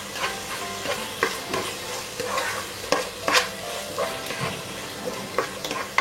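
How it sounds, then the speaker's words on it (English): Pasta sauce with chili sauce or tomato ketchup is stirred in a frying pan, a soft sizzle running under repeated scraping strokes and clicks of the spoon against the pan. "Mix it well."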